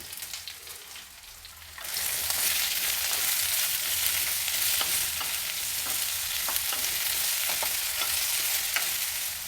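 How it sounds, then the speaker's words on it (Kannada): Chopped ivy gourd and a medium tomato drop into hot oil, and after a quieter start a loud, steady hiss of frying begins with light crackles as they are stirred. "ಎಣ್ಣೆ ಬಿಸಿಯಾಗಿದೆ ಹಚ್ಚಿಟ್ಕೊಂಡಿರೋ ತೊಂಡೆಕಾಯಿನ ಎಣ್ಣೆಯಲ್ಲಿ ಹಾಕಿ ಚೆನ್ನಾಗಿ ಹುರ್ಕೊಳ್ಬೇಕು"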